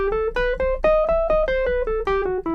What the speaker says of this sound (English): This is actually borrowed from a different scale called the harmonic minor scale.